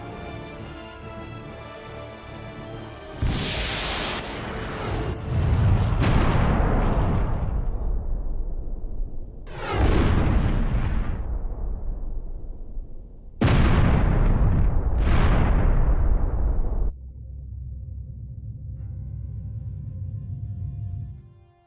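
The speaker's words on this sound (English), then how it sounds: "Incoming fire from the unknown vessel." Incoming fire from an unknown enemy vessel in the game Star Ocean: The Last Hope arrives as four loud, heavy blasts, each a sharp hit trailing into a long rumbling roar, separated by brief lulls over a low hum.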